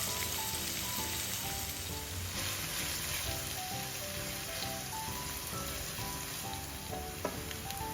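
Chopped onion sizzles steadily in hot oil in a pan, a dense, continuous crackling hiss that holds at an even level throughout.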